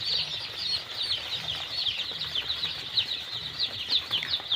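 Around 700 young broiler chicks in a poultry shed huddle under a heat lamp on a cold day, filling the air with a dense, continuous high peeping chorus heard from a moderate distance.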